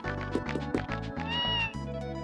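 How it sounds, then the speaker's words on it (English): Cat meowing in the Tales of Phantasia video game, a short series of clear synthesized meows layered over steady background game music, with no talk. "Sounds like a cat."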